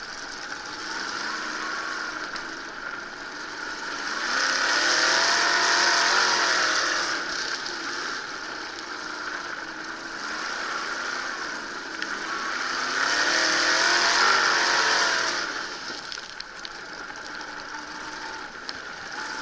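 Race cars roar past at a short-track feature race in New England, engines swelling loudly twice as the pack passes close, then fading to a steady distant drone between passes.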